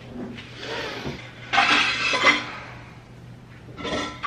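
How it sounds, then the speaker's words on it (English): Dishes being put away at home, with intermittent clinks, clatters and rubbing of plates and cutlery in short bursts and quiet pauses between, close and moderately loud, with no talking. "I'm just gonna put a few of these dishes up."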